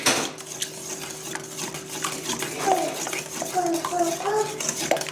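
Spoon clinks and scrapes against a bowl as milk is stirred into a crème caramel mixture, light intermittent taps with a faint background voice.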